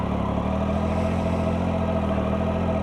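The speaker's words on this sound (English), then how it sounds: "As usual with Triumph, you have to pull the clutch to start it" Triumph Tiger 800 XRT motorcycle, a 2018 model, with its engine running at a steady idle just after starting, a continuous close mid-pitched rumble with no talk over it.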